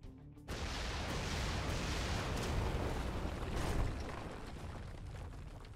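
Artillery bombardment in the strategy game Kriegsfront Tactics: a loud, continuous roar of explosions begins abruptly and rumbles steadily for several seconds, swelling briefly before easing slightly.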